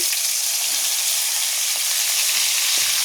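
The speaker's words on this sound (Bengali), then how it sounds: "এখন আমি এই গরম তেলের ভিতরে জাস্ট এই মেখে রাখা আমগুলোকে ফোড়ন দিয়ে দেব" Spiced, pre-mixed mango pieces dropped into hot oil for pickle, giving a loud, dense, unbroken sizzle with a few faint clinks throughout.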